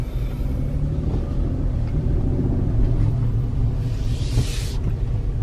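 A 2020 Chevy Colorado Z71 pickup truck on the move, a steady low engine and road rumble from inside the cab that holds throughout, with a brief hissy burst near the end.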